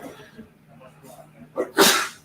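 A single sharp sneeze bursts out near the end after quieter background murmuring and faint movement.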